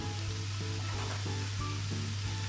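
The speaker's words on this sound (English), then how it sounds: "after sauteing ginger garlic paste for around 2 minutes, add in turmeric powder" Ginger garlic paste and onion sauté in a pan for a chicken drumstick curry, giving a steady, close sizzle with a few soft stirring scrapes and no voices.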